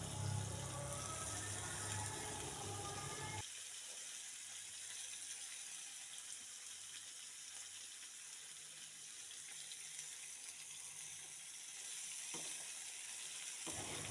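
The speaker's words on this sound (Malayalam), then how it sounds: "അതൊന്ന് നമ്മൾ ആ എണ്ണയിൽ തന്നെ ഒന്ന് നന്നായി വഴറ്റിയെടുക്കുക." Carrot, cabbage, beans and capsicum sauté in hot oil in a pan for a Schezwan prawn kabsa, a steady quiet sizzle with a brief louder burst at the start.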